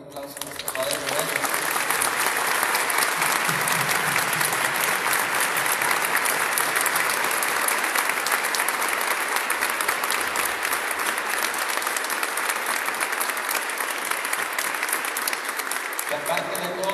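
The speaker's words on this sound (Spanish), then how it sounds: "Vamos a darle un fuerte aplauso a nuestro Padre Rubén" A congregation in a basilica during a Pentecost vigil breaks into loud, sustained applause that holds steady for over fifteen seconds, dense and reverberant, then cuts off near the end.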